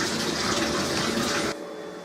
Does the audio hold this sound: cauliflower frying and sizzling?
no